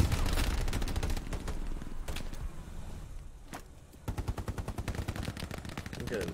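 Machine gun fire in Hell Let Loose sounds as rapid rhythmic bursts, close and loud, pausing midway and then resuming in a steady rattling string, with voices talking over parts of it.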